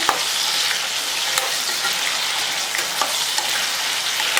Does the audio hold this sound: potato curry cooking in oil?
yes